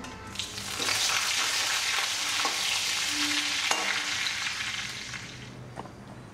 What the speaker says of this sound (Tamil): இப்போ எண்ணெய் நல்லா காஞ்சிருச்சு கடுகு இந்த மாதிரி போட்டு தாளிச்சிக்கலாம்